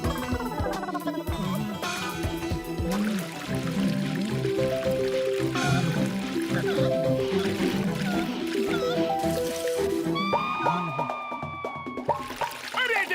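Liquid plant medicine poured onto rose flowers in a Motu Patlu cartoon, a continuous splashing pour lasting several seconds beneath busy cartoon music and effects.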